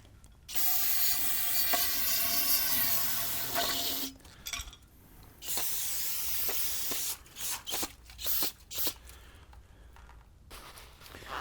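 Brake cleaner sprays onto Harley Sportster/Dyna motorcycle fork parts in a loud close hiss lasting several seconds. Shorter bursts and a series of quick spritzes follow, with light handling clicks between them.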